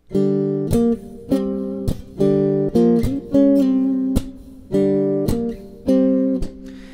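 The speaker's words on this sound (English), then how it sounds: "I found that if I just add that effect of the snare" Fingerstyle guitar chords played in a steady rhythm, with sharp percussive slaps on the strings standing in for a snare backbeat.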